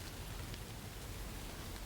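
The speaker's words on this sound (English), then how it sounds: "The rain grows quieter again, not because it has stopped, but because the branches above catch so much of it" Steady rain falls on a countryside walk, a soft, even hiss that runs without a break and carries no voices.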